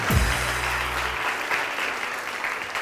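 Applause from a studio audience on a TV morning show, a thick continuous patter of many hands clapping at moderate loudness, with a brief low thump at the start.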